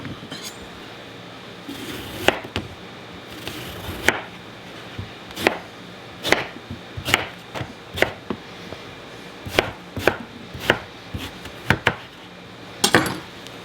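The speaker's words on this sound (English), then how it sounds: "What I'm going to do is just cut them into, about almost 1-inch pieces." A knife cuts eggplant into roughly one-inch pieces on a board, a series of sharp, close chops at an uneven pace with short pauses, over a quiet room and no speech.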